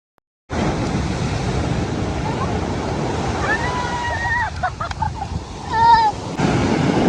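Sea waves wash steadily onto Kakinada beach in Andhra Pradesh, a constant broad surf rush with wind buffeting the microphone, while faint voices and a brief whistle-like tone rise over it.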